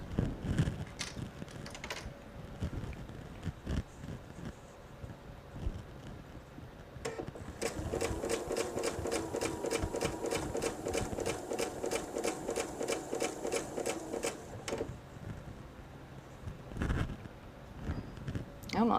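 Sewing machine stitching fabric for a jelly roll purse, a fast steady mechanical chatter running for about seven seconds in the middle, with quieter handling noises before and after.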